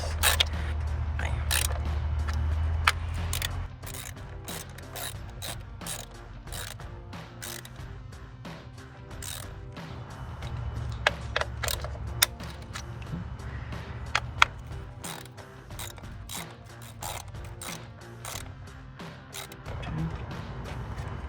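Aftermarket performance ignition coils are hand-tightened on a 2005-2008 Mustang GT engine, producing steady clicking and ratcheting with scattered sharp ticks and clanks throughout, close up and moderate in level.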